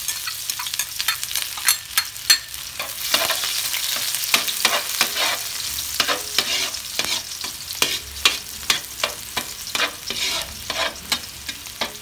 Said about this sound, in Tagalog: ilagay na natin ang bawang